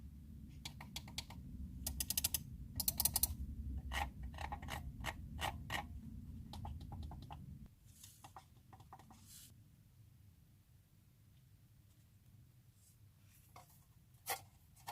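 Buttons and the scroll wheel of a Logitech MX Ergo trackball mouse being worked, a close series of sharp clicks and ratcheting wheel ticks, dense at first and then sparser over a quiet background.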